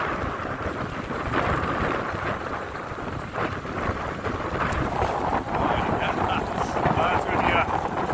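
Strong wind buffeting the microphone during freezing rain on a night ebike ride in Toronto, a steady roaring, gusting rush that continues throughout, with someone speaking over it.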